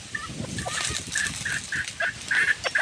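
A mother hen in a Filipino backyard flock makes short nasal clucks and calls, a series of close, irregular notes over light ambient rustling.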